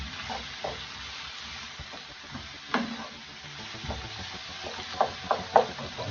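Cabbage and broccoli are stir-fried in a pan, with a soft sizzle under repeated scraping and knocking of a utensil being stirred, clicks clustering near the end.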